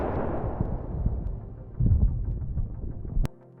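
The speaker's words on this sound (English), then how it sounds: "a massive blast occurs, destroying a Russian ammunition depot" A loud, rumbling explosion from an FPV drone strike on a Russian position, a heavy blast with a swelling second boom before cutting off abruptly.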